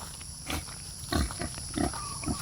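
A neighbour's pig on a farm grunts several times in short, low bursts spaced about half a second apart, fairly quiet and close by, with no talking.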